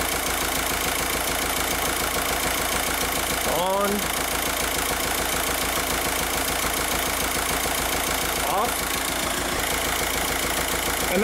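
The diesel engine of a 2006 Jetta TDI, with its N75 boost control solenoid, runs at a steady idle throughout, a close, constant rumble with a couple of brief squeaky chirps.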